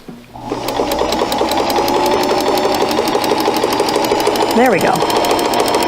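A vintage Kenmore 158.1802 sewing machine stitches a keyhole buttonhole, its fast steady mechanical chatter running loud and close, with a brief rising and falling whine near the end and a voice speaking briefly over it.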